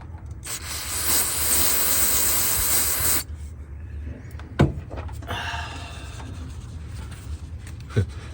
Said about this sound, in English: Put a little bit of this super duper brake parts cleaner on this rag.